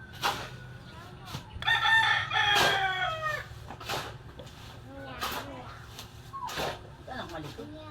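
A rooster crows amid a rural backyard setting, its drawn-out call rising clearly over steady background noise, while people chat nearby and other fowl cluck intermittently.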